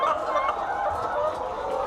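Hens clucking steadily inside a Lohmann poultry farm shed, a dense, continuous chorus of many birds at close range with no pauses and no talk.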